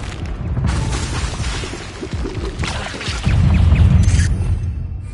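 Incendio fire spell cast in Hogwarts Legacy, a series of whooshing fiery bursts and booming impacts with crackling debris, ending in a heavier, sustained low rumble.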